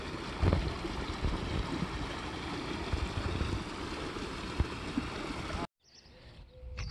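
Irrigation water pours and rushes in to flood a desert field, a steady loud churning flow up close that cuts off abruptly near the end, followed by quieter outdoor noise.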